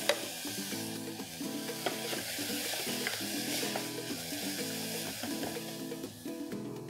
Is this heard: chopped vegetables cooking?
yes